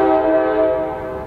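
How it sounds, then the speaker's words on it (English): A train horn sounds from about a mile away, one sustained steady blast holding for over a second before cutting off, clear and fairly loud with no talk over it. "the train from a mile away blows its horn"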